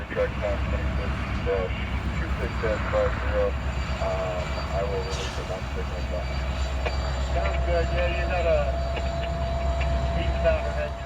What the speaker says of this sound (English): The one thing that was on my bucket list was to catch a loaded wind turbine train.